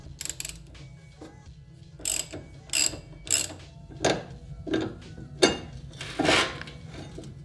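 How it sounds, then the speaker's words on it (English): A ratchet works loose a 17mm bolt on the front suspension linkage of a Toyota MR2, giving bursts of quick clicking strokes that grow louder toward the end, close-up in a quiet workshop. "Now we remove the 17mm bolt attaching the front suspension linkage to the knuckle."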